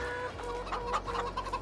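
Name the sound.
chickens clucking in a barn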